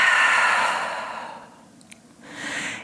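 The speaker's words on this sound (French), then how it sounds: "Ouvre la bouche, expire." A long, breathy exhale through an open mouth at the close of a yoga session, loud and near. It fades, and after a short pause a softer breath follows.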